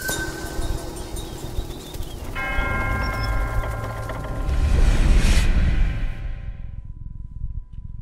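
Bell struck in the Black Myth Wukong video game: a single loud metallic clang followed by a sustained ringing hum with layered tones that fades out over several seconds, with no talk.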